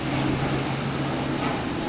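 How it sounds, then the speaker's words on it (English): A Qatar Airways Airbus A350 arriving at Boston Logan Airport, a constant dense engine roar with a low droning hum underneath, fairly loud and steady, no voices present. "Next to come in is Qatar, coming in from Doha, an A350."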